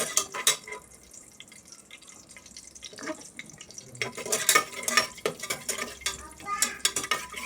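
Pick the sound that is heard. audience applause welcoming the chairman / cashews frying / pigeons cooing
cashews frying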